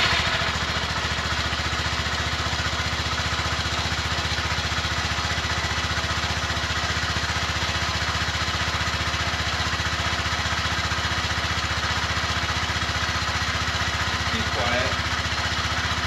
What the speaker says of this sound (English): here's cold start of the stock Honda Grom exhaust